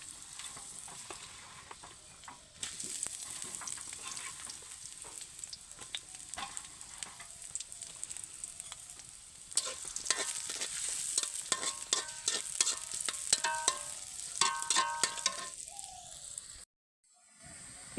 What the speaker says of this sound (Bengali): পেঁয়াজ ভাজা শেষ।